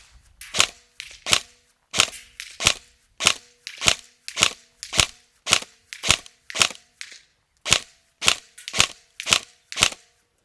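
An SR-47 airsoft rifle fires single shots at a target 100 feet away, about twenty sharp, close cracks in a fairly regular rhythm with brief pauses between them.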